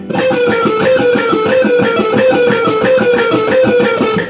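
Electric guitar picks a fast, steady repeating four-note chromatic pattern in even 16th notes, played alone and close.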